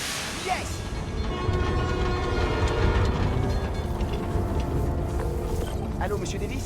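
A New York subway train in the Spider-Man Miles Morales video game rumbles and clatters steadily close by, with screeching metallic tones over the roar and speech mixed in.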